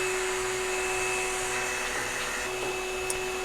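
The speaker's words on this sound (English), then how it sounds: "I just use my Shop Vac and blew all of the dust off" A shop vac blows dust off Willys headliner panels with a loud, continuous whine that holds steady throughout, with no voices.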